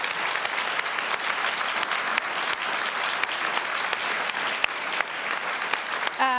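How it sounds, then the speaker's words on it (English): Sustained applause from a large audience at a NATO public forum, dense steady clapping filling the hall throughout with a faint voice starting at the very end. "If you're clapping me out,"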